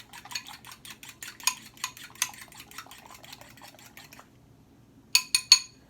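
Eggs being whisked in a bowl produce a rapid, even run of close metallic clinks for about four seconds, followed by a pause and three sharper taps at the end.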